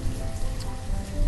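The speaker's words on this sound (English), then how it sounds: "Never to know a day without horrible loud rain." Heavy rain pours steadily in the video game Banished, a dense, continuous hiss of drops hitting surfaces at close range with no pauses or other sounds.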